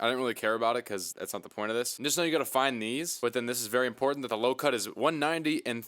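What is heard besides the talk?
No distinct noise like a dog, phone or traffic.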